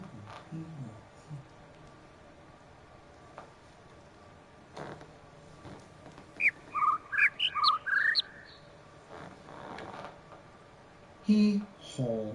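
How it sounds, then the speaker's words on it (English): Short, high chirps and tweets of birds from the puzzle game The Witness arrive in a quick cluster of bright calls, then a brief low burst follows, over quiet room noise with faint movement sounds. "Come on, birds."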